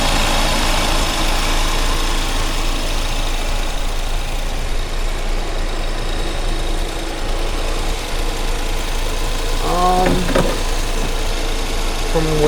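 A 2020 Ford Mustang's EcoBoost 4-cylinder turbo engine idles in a steady, loud, close hum, with a brief burst of other sound near the end.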